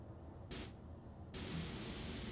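Paint spray tool in the game Space Engineers, hissing in two bursts: a short spray then a longer steady one, even and close with no talk.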